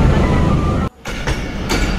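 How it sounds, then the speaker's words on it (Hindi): A train in Pakistan rumbles steadily along the tracks, close and loud, with a brief drop in the noise before the rolling clatter resumes. "वीडियो सिर्फ स्पेशल आपको आवाज़ सुनाने के लिए ट्रेन की"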